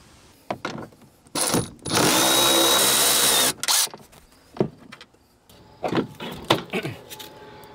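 A power tool removes the strut top nuts on a Subaru Crosstrek, with short whirring bursts and then one longer sustained run close by, followed by lighter clicks and handling noises.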